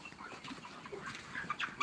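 Chickens being lifted and caught cluck faintly amid a busy background hiss, with soft scattered calls rising toward the end.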